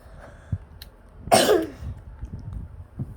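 One loud, harsh cough up close, surrounded by quiet shuffling and faint background noise.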